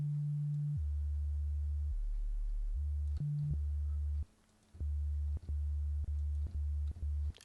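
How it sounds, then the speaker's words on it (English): A pure, smooth synthesizer sine tone plays a sequence of steady low notes, each held briefly, with a short gap of silence midway. "I'm going to switch it to a sine wave. This is your cleanest waveform."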